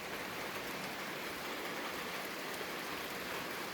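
Soft, steady rain falls outdoors as an even hiss, faint and continuous with no voices or other sounds.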